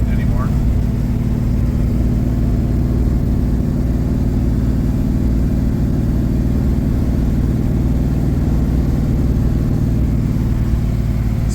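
A 1967 Plymouth Valiant four-door on small 13-inch wheels cruises steadily, its engine a constant low drone with road rumble that holds level throughout, close and fairly loud, with no talk over it.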